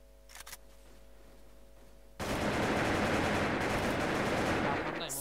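Gunfire from the online shooter Wolfteam erupts after a quiet start: dense, continuous rapid shots, loud and close, filling the second half with only brief faint sounds before it.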